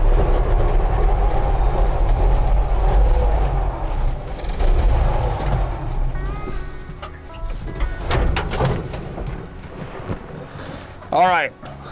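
A Toyota FJ45 Land Cruiser pickup with a three-speed column shift idles with a deep, steady, close rumble that softens midway, while voices talk over it.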